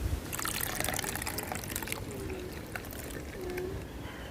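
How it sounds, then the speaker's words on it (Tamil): Cooled milk is poured into tender coconut payasam, a soft continuous liquid pour and trickle close by, steady and quiet throughout, with faint splashy bubbling. "இப்போ நம்ம ஆற வச்ச பாலை சேர்த்துக்கலாங்க."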